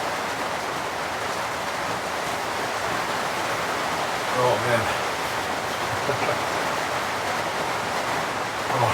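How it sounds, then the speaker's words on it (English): Heavy rain pours on a remote cabin during a rainstorm, a steady dense hiss throughout, with someone briefly speaking and some small movements indoors. "I can hear that rain coming down now though."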